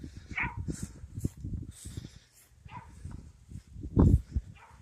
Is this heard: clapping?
no